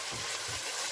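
Ingredients for jollof rice fry in a pan over low to medium heat, giving a steady, close broadband sizzle and hiss with soft low rumbles underneath. It runs unbroken for the whole short stretch.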